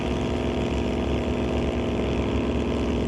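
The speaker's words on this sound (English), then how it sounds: "You can hear those revs building." A 1994 Mustang drag racing car holds steady revs at the line, a loud continuous rumbling engine drone with a rough, pulsing low end and no talk.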